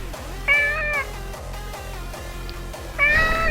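Two clear, high-pitched meows from a cat, one near the start and another toward the end, heard over a steady low background hum.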